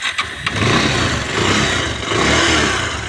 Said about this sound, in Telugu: ఒకసారి స్టార్ట్ అయితే చేసి చూసుకుందాం బైక్ని అయితే